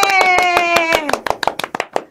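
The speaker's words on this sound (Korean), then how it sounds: "힘찬 박수로 좀 온라인 강연회를 시작해 보도록 할까요?" Steady, rhythmic hand clapping opens an online lecture. A drawn-out voice rings over the first second, then the claps continue alone, crisp and evenly spaced.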